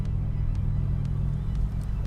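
1987 Buick Grand National with a TA49 turbo and Turbotweak chip idling, a low steady rumble heard close up, faint and alone.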